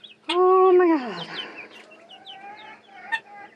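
Polish, Cochin and Silkie chicks give loud, close chirps and peeps, one long call and then several shorter calls overlapping, with no talking.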